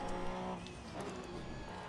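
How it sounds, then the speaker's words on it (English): A race car in Assetto Corsa EVO sits on a launch control start, engine held at high steady revs with a tonal whine that shifts slightly as the launch begins, tire noise underneath, fairly quiet. "you just hold the gas and the brake on the first gear, and it will do a launch control"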